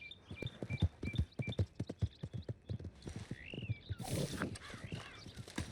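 Horse hooves clop steadily on hard ground in a rhythmic gait in the video game Red Dead Redemption 2, with a bird cawing above and a horse whinnying briefly near the end.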